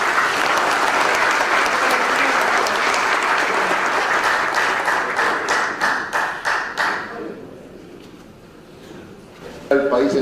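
A conference audience at a port-sector forum gives loud, dense applause for a port workers' federation leader. The clapping thins into scattered claps and fades out near the end.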